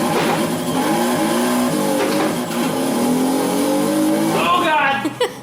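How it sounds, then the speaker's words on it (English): Car revving through gears during an acceleration run in the Forza racing video game, engine pitch climbing loudly and steadily with a brief tire screech and a shift near the end, under talk. "So we'll do a little acceleration run."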